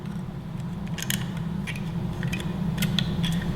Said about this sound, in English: I recommend using a small flathead screwdriver to pop this battery out